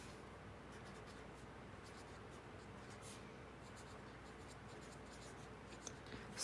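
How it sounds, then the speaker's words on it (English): A pen or pencil scratches across paper as someone writes numbers by hand during a math lesson, a faint, steady scratching texture close by with no talking. "so I'm going to write 15"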